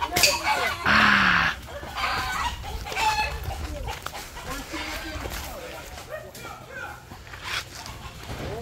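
Rooster clucking and crowing in a loud call near the start, with further scattered clucks and bird calls amid people talking and background noise.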